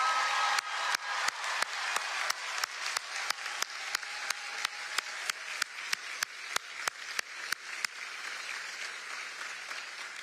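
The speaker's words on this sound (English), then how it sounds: "Let's give her one more Wolfpack round of applause." An audience at NC State claps for astronaut Christina Koch, a moderately loud crowd applause joined by sharp, evenly spaced rhythmic claps that carry on steadily before easing off.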